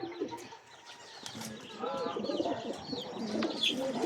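A racing pigeon arriving home at its loft after a 149 km race from Capintalan, Nueva Ecija, cooing softly with brief wing flaps against steady outdoor background and faint chirps.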